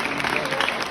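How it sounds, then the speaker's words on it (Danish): Audience applause for performers called onto a stage at a live event, a dense, steady clapping from a crowd, fairly loud and close, continuing throughout. "bare giv dem en klap"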